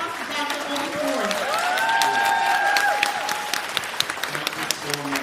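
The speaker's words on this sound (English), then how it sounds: "Give a round of applause to Dr." An audience applauds steadily at an evening keynote event, a dense wash of clapping with scattered sharp claps near the front. A voice sings or calls out briefly above the applause.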